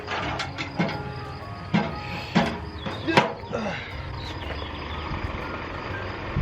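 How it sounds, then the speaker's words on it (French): Big truck manoeuvring nearby, a repeating reversing beep sounding several times over a low diesel rumble, with clanks and bumps in between. "Il y a un gros camion qui est en train de faire je sais pas quoi là."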